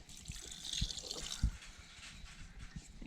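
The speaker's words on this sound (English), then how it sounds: "I was able to take my 1/4 cup of sugar and dissolve it in some of the water. So we're going to pour that in there." Sugar dissolved in water is poured into a jar of apple scraps, giving a soft, close trickle and splash with a few faint drips and knocks against the glass.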